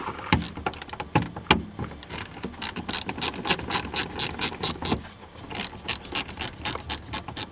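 Ratchet clicking steadily in quick bursts while backing out the quarter-inch bolts holding the rear speaker in a 2002 Pontiac Grand Prix GT, close and crisp with brief pauses between runs.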